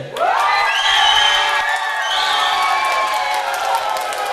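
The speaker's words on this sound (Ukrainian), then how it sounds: "Зараз оплески активний стіл номер три" Guests at a wedding table cheer and applaud in a loud, unbroken crowd roar, with rising shouts and whoops over steady clapping.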